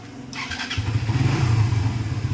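A used Suzuki GSX-R motorcycle with a sealed engine cranks and starts, then settles into a steady, close, pulsing idle with a rhythmic low throb.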